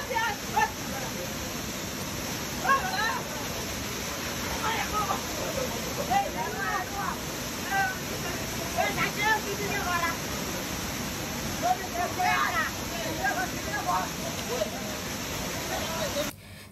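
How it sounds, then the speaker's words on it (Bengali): A waterfall pours nearby with a steady rushing roar, while a crowd of bathers chatters and calls out faintly beneath it. "ঝর্ণার সাউন্ডটা শুনলেই কিন্তু মনটা একদম জুড়িয়ে যায়"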